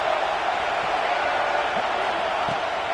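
Stadium crowd roaring behind the defense on a big third down at a Clemson college football game, a dense, loud, continuous wash of cheering that holds steady throughout.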